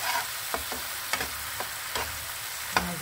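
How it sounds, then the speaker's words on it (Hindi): Oil splutters in a pan with a constant close sizzle and a handful of sharp pops and crackles spaced irregularly, alone without voices. "तेल चुटपट पड़ी"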